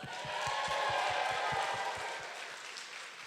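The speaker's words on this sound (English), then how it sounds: "Please give them a round of applause." Applause for event vendors at a celebration, a steady wash of clapping from a crowd, moderately distant, swelling briefly then easing over a few seconds, with faint low thumps underneath.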